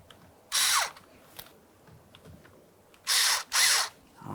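A power drill tightens the mounting bolts on a 2006-2012 Ford Fusion steering column in three short close whirring bursts, with faint clicks and handling noise between them.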